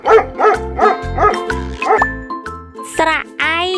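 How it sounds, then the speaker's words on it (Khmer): Repeated cartoon-style dog barks land in a steady rhythm over bright children's alphabet-song music, loud and up front, with sung voices around them. "ឆ្កែដេញខាំសេក"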